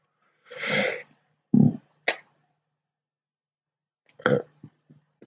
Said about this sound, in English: Sorry for burping then, that's very rude of me.